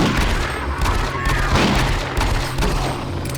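Repeated loud gunshots from a slow-firing weapon in the shooter DOOM 3: BFG Edition, spaced blasts with booming tails over game ambience.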